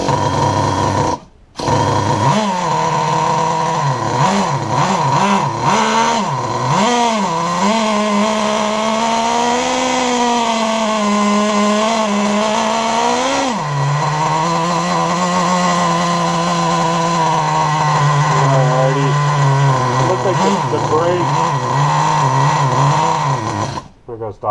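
A Traxxas Jato nitro RC truck's small engine revs under throttle, a loud continuous buzzing whine rising and falling in pitch across the run with a brief cut near the start.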